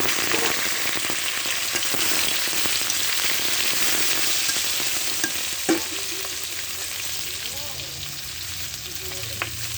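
Taro (kochu mukhi) sizzles loudly and continuously in hot oil, dropped in after dried red chillies, with a dense frying hiss and a few faint clinks, stirring scrapes and tonal sounds in the background.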